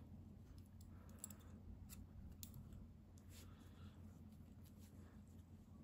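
Scissors snip through crochet yarn, with a few faint, brief cuts over a low steady background hum, close and quiet.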